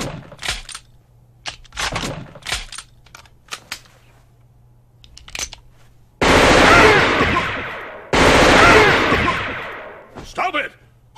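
Gunfire in a Ghost in the Shell film scene comes as two long, loud, dense bursts of rapid shots, each trailing off. Shouted voices and sharp clicks come before and after the shooting.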